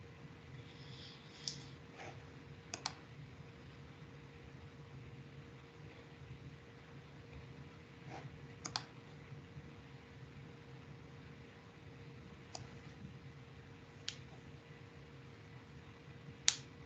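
Computer mouse clicking, a handful of sharp, faint, isolated clicks spaced a few seconds apart over a quiet hiss.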